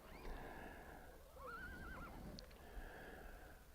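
A chestnut mare whinnies at a horse sale, a clear rising-and-falling neigh at mid-distance over steady crowd and arena background noise.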